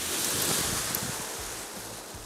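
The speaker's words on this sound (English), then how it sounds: "the wind here is just absolutely terrible" Strong wind buffets the microphone at a shoreline during a kiting session, a steady loud roar mixed with surf, with no talking.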